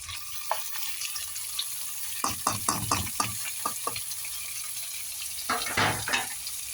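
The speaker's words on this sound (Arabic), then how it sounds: "هاخدهم تشويحة بقى لحد ما يبقى لون البصلة ذهبي." Onion, garlic and bay leaves sauté in a pot for an okra and lamb tagine, giving a soft steady sizzle broken by several close scraping stirs of a spoon, with no talk.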